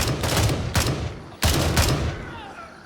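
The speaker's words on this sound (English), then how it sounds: "The suppression fire." Suppression gunfire in the video game Gray Zone Warfare: loud sustained bursts of automatic rifle fire in two long volleys separated by a brief gap, close and dense, with speech faintly mixed in.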